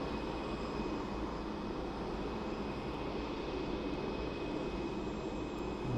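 A Silk Way cargo jet taxiing at Birmingham Airport, a steady low engine rumble and whine heard from a distance, continuous with no voices.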